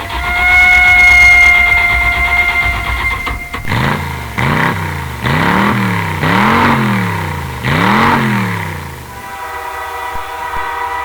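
Radio drama sound effect of a car engine struggling to start, then revving in five or six rising and falling surges, after a long train horn blast fades out at the start.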